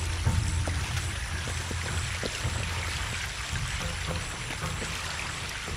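Water rushes and pours steadily to power a bridge in the video game Shadow of the Tomb Raider, a continuous broadband wash with a low rumble beneath, constant in level throughout.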